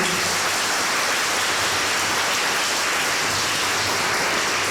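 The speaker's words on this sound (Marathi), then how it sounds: "स्वागत गीत ज्या मुलांनी गायलं त्यांच्यासाठी सुद्धा टाळ्या वाजवा" Audience applause at a computer lab inauguration for the children who sang the welcome song, dense, sustained, even clapping from a large crowd with no pauses, loud and continuous.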